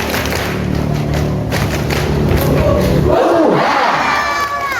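A crowd of Islamic boarding school students shouts together at a hall inauguration and Indonesian Independence Day celebration, a loud massed roar with thumps that swells into high, overlapping cheering voices.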